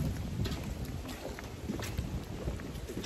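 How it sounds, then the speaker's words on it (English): Steady wind rushes and buffets the microphone at a Walton County, Florida park before rain, a constant broadband roar with no voices. "It is windy now."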